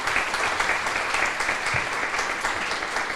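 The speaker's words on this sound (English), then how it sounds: "But give my staff a round of applause." A crowded room at a campus naming ceremony breaks into sustained applause, a dense, even wash of many hands clapping with no break.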